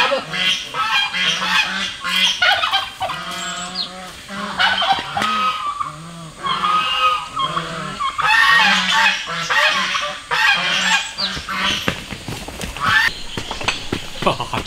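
A duck being caught for cooking, to be stewed with pork intestines in an iron pot, quacks and honks loudly and repeatedly in close, agitated bursts.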